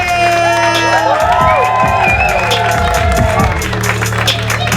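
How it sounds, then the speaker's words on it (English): Comedy club crowd clapping and cheering loudly as a comedian is welcomed to the stage, with steady applause, shouts and whoops, and music or talk mixed underneath throughout. "Start clapping with your hands, everybody."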